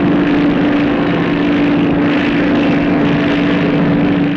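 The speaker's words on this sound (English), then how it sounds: "Two Napier-Eland propeller turbines, a four-bladed rotor powered by jets at the tips." A Fairey Rotodyne, a vertical-takeoff airliner with two Napier Eland propeller turbines and a tip-jet-driven four-bladed rotor, makes a loud, steady turbine drone with a strong constant hum throughout.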